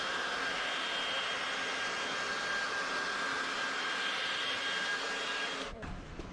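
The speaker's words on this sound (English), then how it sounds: "Right, Hairdryer." A hair dryer blows with a steady, broad roaring whoosh, close and constant, while chrome trim is being removed from a Mini Cooper S F55/F56, and the noise cuts off near the end.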